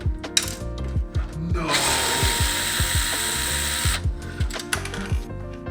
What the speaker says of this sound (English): I need this extendo bit just to reach these screws